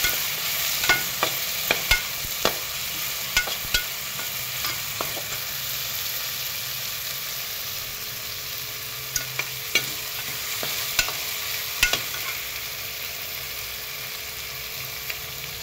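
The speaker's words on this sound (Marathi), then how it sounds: "आणि हे वाटाणे पण टाकून घेऊ। याला पण चांगलं असं परतून घेऊया आपण।" Peas and mushrooms stir-fried in a pan for mushroom pulao give a steady, moderate sizzle, broken by irregular sharp scrapes and taps of a spatula against the pan throughout.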